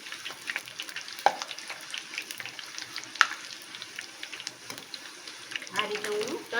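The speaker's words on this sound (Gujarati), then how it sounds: "આ રીતે હું તળી લઉં" Nachos frying in hot oil, a steady close sizzle with crackling pops and occasional sharp clinks as they are stirred and turned, plus a brief voice near the end.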